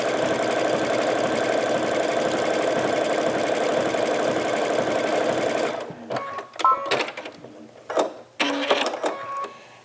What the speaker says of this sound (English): I've lined it up on the quarter inch seam and I'm going to begin to stitch